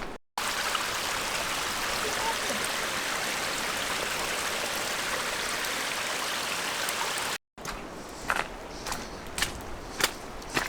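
Rushing water from a mountain stream on a Cradle Mountain hike, steady and broadband for most of the stretch, then cutting out briefly before returning quieter with scattered sharp knocks and steps.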